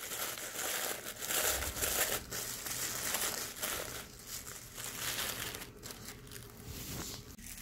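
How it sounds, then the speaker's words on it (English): Tissue paper being pulled apart while making an Earth Day paper fan decoration, steady close crinkling and rustling throughout, fairly quiet with no voices. "and then separate the tissue paper"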